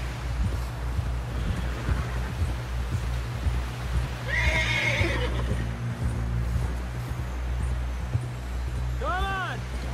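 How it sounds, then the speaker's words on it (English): A horse whinnies loudly mid-clip and again near the end while galloping in the video game Red Dead Redemption 2, over a steady engine-like hum and faint hoofbeats. "Someone help John down off this horse"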